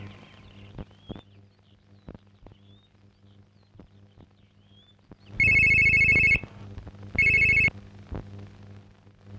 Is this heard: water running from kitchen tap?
no